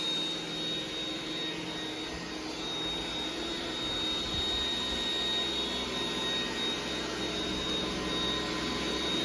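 A Roomba 980 robot vacuum cleaner runs with a steady, unbroken whirring drone, close by and constant throughout, with no voices.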